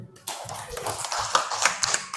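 Children in a classroom clap their hands together, a short burst of quick, uneven claps close by after a brief pause.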